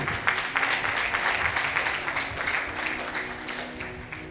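Steady applause from an audience at a religious sermon, many hands clapping densely and continuously throughout, fairly loud with no voices standing out.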